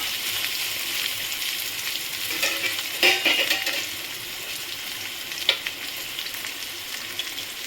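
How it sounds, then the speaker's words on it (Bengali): Shola kochu (taro stems) frying in a pan with a steady, close oily sizzle, broken by a few louder stirring scrapes and clinks, with no talking. "এটা একটু ভাজা হলে আমি এতে রসুনটা দিয়ে দেবো"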